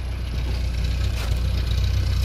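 A cold 1967 Mercedes W110 200D diesel idles with a steady, loud low-pitched clatter and rapid even pulsing, close up and without talk.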